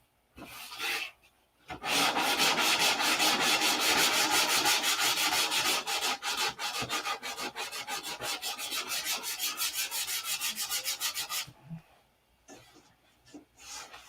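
Sandpaper rubs on a P-47 model build in fast, even back-and-forth strokes that carry on for about ten seconds close to the listener, then stop, with a brief scrape before they start.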